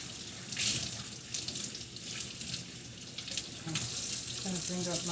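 Kitchen sink faucet runs steadily while a knife is rinsed under it, the stream splashing and hissing continuously with light clatter, moderately loud and close.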